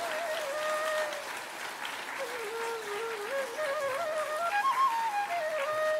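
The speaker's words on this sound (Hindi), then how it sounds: "एक बार सब एक दूसरे के उत्साहवर्धन में तालियों की गड़गड़ाहट करें।" An audience at a spiritual discourse gathering claps continuously in a dense, steady wash of applause, while a melodic tone or voice wavers softly over the top.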